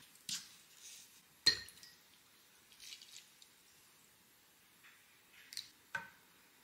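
Glasses clinking together in a toast over makgeolli, a few light, bright chinks and taps scattered across a quiet room, with small clatters of tableware between them.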